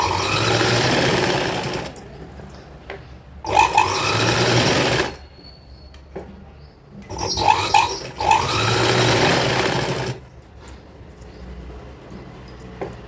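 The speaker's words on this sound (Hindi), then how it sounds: "ये थोड़ी दूर पर हम सिलाई लगाएंगे।" Bursts of a sewing machine stitching kurti fabric, three loud runs of rapid needle clatter separated by quiet pauses while the cloth is repositioned.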